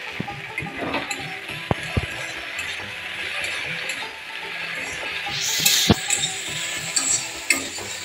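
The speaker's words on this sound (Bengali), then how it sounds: "দেখো আমার ভেন্ডি ভাজা হয়ে গেছে" Okra (bhindi) frying in a pan, a steady soft sizzle with occasional sharp clinks and scrapes of a utensil stirring, close by and without talk.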